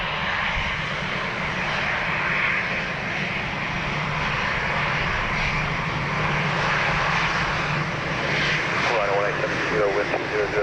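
An airliner on approach to Dublin Airport, coming in from the south, gives a steady broad jet roar that holds for the whole stretch, while a person talks over it near the end.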